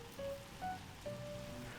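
Water with salt and rosemary boils in a pot, giving a faint, soft bubbling and crackling hiss with a few thin tonal whistles, quiet and continuous, no talk.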